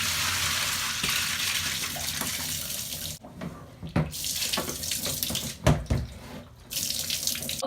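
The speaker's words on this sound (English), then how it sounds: "now I'm going to drain out that water" Rinse water from hand-washed cloth diapers draining out of a sink or tub, a steady rushing gush with a brief gurgling break midway before the flow resumes, close and fairly loud, with no talking.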